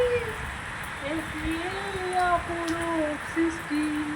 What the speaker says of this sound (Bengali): দেখতে পাচ্ছ জোরে বৃষ্টি পড়ছে